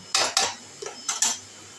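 Taro curry made with yogurt is poured from a wok into a bowl, giving a few quick metallic scrapes and clinks of a utensil against the pan, close up and with no talking.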